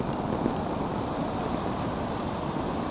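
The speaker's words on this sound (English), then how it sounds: "Oh my goddess, it's a huge waterfall." Floodwater pours over a road and drops like a waterfall into a freshly gouged channel, a steady, loud, broadband roar with no break, close by.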